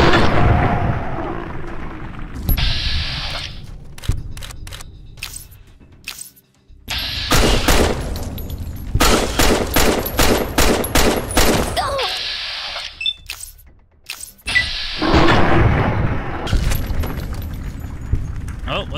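Loud bursts of gunfire from the video game Fallout: New Vegas crack and boom in rapid volleys, several clustered strings of shots separated by brief lulls, with players talking over the combat.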